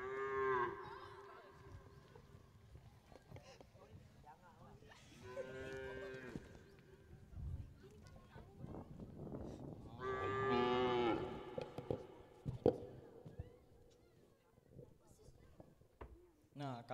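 Cow mooing in a staged theater drama at a Ramadan festival, several drawn-out moos rising over background chatter and stage talk, fairly close and moderately loud.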